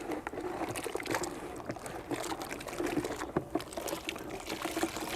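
Water sloshing and trickling in a rinse bucket during a two-bucket hand wash of a BMW E90 320d, a steady close, splashy wash of liquid movement with no talk.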